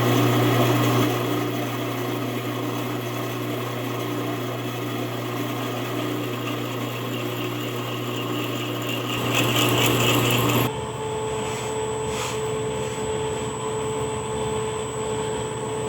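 A power saw grinds steadily through a deep metal casting for a long stretch, loud and continuous, with a shift in pitch partway through as the cut changes.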